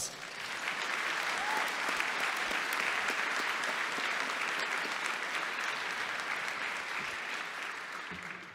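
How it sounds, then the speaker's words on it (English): Sustained audience applause for the panelists at a security conference, a dense, even crowd clapping that holds steady for over eight seconds before easing slightly at the end. "one more round of applause for all of our panelists"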